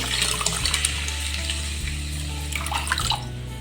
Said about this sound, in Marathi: आणि आता याच्यामध्ये मी पाणी टाकून ठेवणार आहे